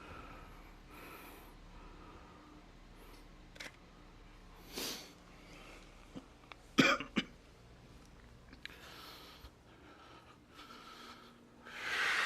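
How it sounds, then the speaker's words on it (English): A person coughs and clears their throat several times in a quiet indoor room, short harsh bursts spread across the stretch with the loudest cluster near the middle, plus a few faint clicks. "I'm sorry for my coughing, dude."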